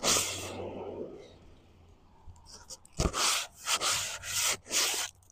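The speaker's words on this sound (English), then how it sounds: "I took 20 strokes off of each side with the belt sander, which it's a dull belt" A belt sander with a dull belt rubs against a piece of hop hornbeam wood, producing rough, rasping bursts that start after a quiet stretch and come in several separate passes, close and fairly loud.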